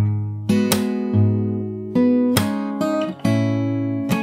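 Fingerstyle acoustic guitar plays a section of a song, with plucked chords and bass notes ringing in several distinct strums and accents over about four seconds, close and clear with no talking.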